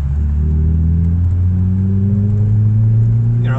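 Ford Mondeo track car engine held at raised revs, a loud steady close drone with a slight rise in pitch, running alone without talk.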